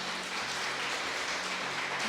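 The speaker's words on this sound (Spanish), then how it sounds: "Puede darle un fuerte aplauso a Dios." A church congregation breaks into a dense, sustained round of applause, a continuous wash of clapping filling the room with no voices over it.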